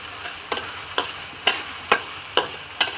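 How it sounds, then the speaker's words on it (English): Lemongrass stir-fried with salt in a pan for dry chicken tomyam, a steady low sizzle broken by about six sharp spatula scrapes at a regular, unhurried rhythm, close and clear with no talking. "Continue stir fry until it's aromatic."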